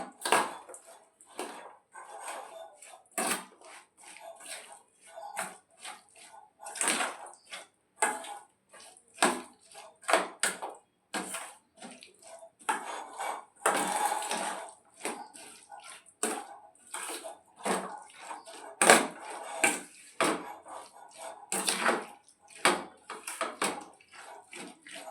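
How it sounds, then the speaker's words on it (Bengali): A spoon stirs raita in a bowl, with repeated irregular scraping and clinking strokes, soft and close, with no talk over it. "এবার আমি এটা খুব ভালো করে এটাকে মিক্সড করে নেব।"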